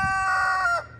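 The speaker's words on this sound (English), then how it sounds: "I just heard the rooster crow." A rooster crows once, close and loud, a single drawn-out call that trails off at the end.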